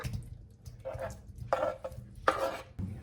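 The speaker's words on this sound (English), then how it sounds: "Okay, let's put in our sausages." Sausages dropped into a cooking pot for a garlicky buttery seafood boil, faint clatters and splashes in a few separate bursts against quiet background.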